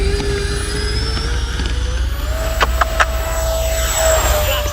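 A large Freewing 737 MAX RC jet (AL37) takes off from a narrow 14-foot-wide strip, its electric ducted-fan whine rising steadily in pitch with a few brief scraping scuffs as the tail touches down.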